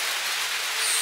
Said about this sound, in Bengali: আর বৃষ্টিটা কমুক